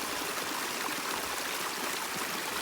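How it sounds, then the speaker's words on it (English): A Lake District mountain stream runs over rocks in a steady, continuous rushing hiss, close and even, with no voices. "Down running water."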